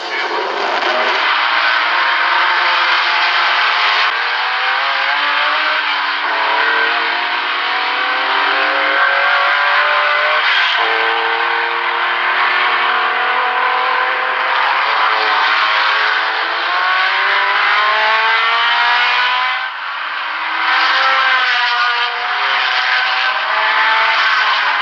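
Continuous roar of race car engines at the 1973 24 Hours of Le Mans, including a Ferrari 312 PB, with layered revving and shifting pitches from archival film sound, loud and unbroken throughout.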